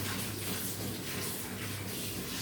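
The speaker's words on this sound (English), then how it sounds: "So rinse off the shrimp now." Steady running water from a kitchen tap pours and splashes as raw shrimp are rinsed, a continuous close rushing wash with no talking.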